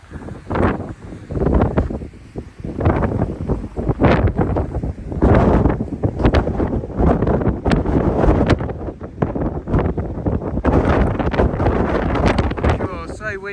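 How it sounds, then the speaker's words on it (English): Strong gusting wind buffeting the microphone at an outdoor viewpoint, heavy roaring bursts rising and falling throughout, with a person talking intermittently underneath. "so windy."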